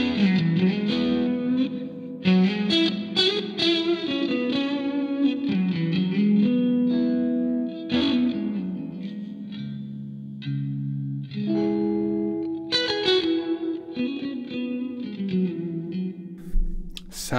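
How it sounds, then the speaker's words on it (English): A Stratocaster electric guitar plays through a spring reverb captured by a Two Notes Torpedo Captor X. Chords and single-note lines ring out continuously for the whole stretch, loud and close, with a splashy, echoing tail and no talking. "what is associated with the Strat and a spring reverb?"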